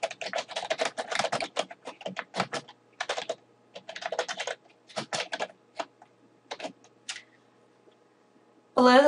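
Bursts of typing on a computer keyboard as a news headline is entered, rapid clusters of key clicks separated by short pauses, close and clear, with a brief louder thump at the very end.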